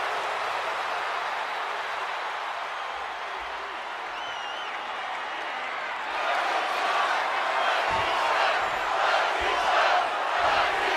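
In the WWE 2K26 wrestling video game, a crowd roars steadily throughout and swells louder and more excited partway through.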